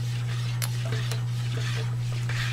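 Concentrated lye solution being stirred into a soap mixture by hand, with faint scraping and clinks of a utensil against the container over a steady low electrical hum, plus a few sharp taps.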